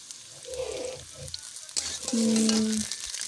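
Food frying in a pan while it is stirred: a steady sizzle runs throughout, with a few brief tonal scrapes, and it gets louder and denser in the second half.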